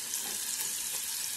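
Kale frying in a pan, a steady soft hiss of sizzling oil, close and fairly quiet, with no talk.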